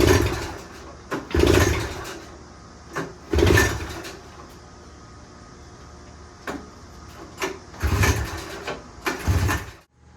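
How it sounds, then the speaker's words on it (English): A 1977 Honda FL250 engine pulled over by hand several times, each attempt giving a short burst of sharp pops and sputters, with quiet gaps between the tries and no sustained running. "We're getting a whole lot of backfiring."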